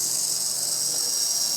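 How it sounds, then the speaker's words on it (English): Bucket actuators on a Double E EC160E or Kabolite K5901 electric RC excavator give a sharp, high hissing whine, steady and close throughout with no talk. "So there is a sharp sound from the actuators."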